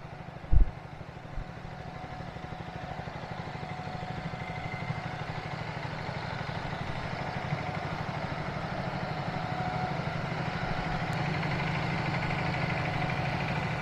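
A Triumph Speed 400 motorcycle idles steadily and close by, its low engine rumble holding even throughout after a brief thump near the start, with no talking.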